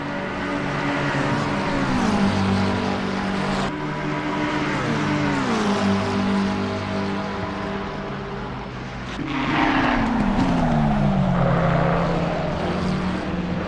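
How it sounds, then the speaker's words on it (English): A McLaren race car, number 998, droning loudly past at the Spa 24 Hours circuit during practice, its engine tone sweeping downward several times as cars pass, with a steady roar throughout. "We have a McLaren making an overtake."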